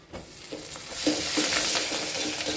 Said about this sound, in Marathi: छान परतून घ्यायचं आहे